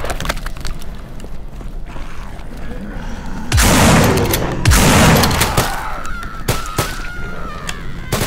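Gunfire in the zombie shooter No More Room in Hell, several sharp shots with crunchy, booming impacts standing out over steady game ambience, the two loudest blasts a second apart mid-clip, no speech.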